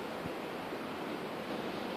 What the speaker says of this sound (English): It's a little bit of ocean noise, a little bit of wind noise.